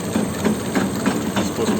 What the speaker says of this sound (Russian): слушаем посторонний шум в работе двигателя